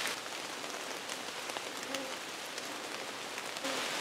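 Steady rain falls in a forest, a dense hiss of drops pattering on leaves and ground with a few louder individual drips, continuous and close, with no one talking.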